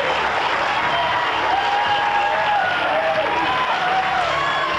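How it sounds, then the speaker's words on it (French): A French game-show studio audience applauds steadily, a dense wash of clapping hands that stays loud and even throughout, with no voices over it. "applaudissements."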